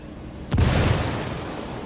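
Frag grenade exploding in the video game Ghost Recon Wildlands, a sudden loud boom with a deep rumbling tail that fades slowly over a steady background.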